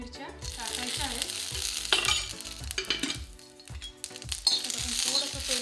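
Green chillies frying in a little oil for fenugreek bhaji, crackling and sizzling up close with repeated stirring scrapes and light clinks of utensil on pan, no talking.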